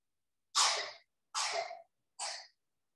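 Three sneezes in quick succession, close and fairly loud, each a sharp burst trailing off, with no talking around them.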